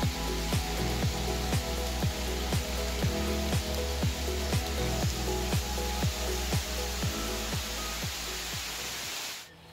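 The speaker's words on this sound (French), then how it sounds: "Ça commence à se calmer, il pleut encore un peu" Light rain falls outdoors as a steady, close hiss of drops, with a regular ticking pattern running through it, before cutting off near the end.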